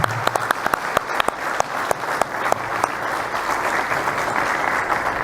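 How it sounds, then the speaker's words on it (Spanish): Audience applause for a presenter at a formal event, a dense steady wash of many hands clapping with a few sharper individual claps standing out at the start, loud and continuous throughout. "Un aplauso para ella, por favor"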